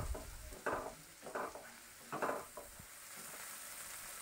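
A paste of green chilli, onion, ginger and garlic sautés quietly in oil, a soft steady sizzle broken by several scraping bursts of stirring in the pan.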